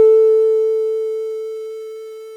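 A sustained decaying sine wave through the non-linear DAC of an early Sega Mega Drive, with a buzzy, harmonic-rich edge, slowly fades over a couple of seconds, sounding rougher and more distorted than a pure sine.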